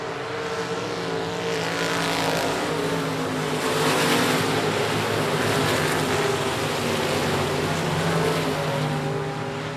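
Race cars roar around the I-37 Speedway dirt track, a dense, continuous engine drone with layered revving as the pack passes, loud and steady throughout without any audible voices.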